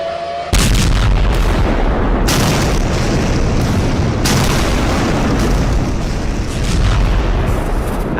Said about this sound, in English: As an earth-shattering explosion boomed in the distance